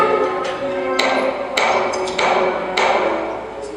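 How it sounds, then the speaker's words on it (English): Knocking on a door in a staged school play of Little Red Riding Hood: four sharp, evenly spaced knocks ring out loud and close, each leaving a short echo in a reverberant hall. "He knocked on the door."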